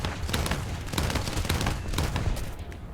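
Rapid anti-aircraft gunfire from the War Thunder video game, a dense continuous fusillade of sharp overlapping shots with booming low rumble, loud and steady throughout with no talking.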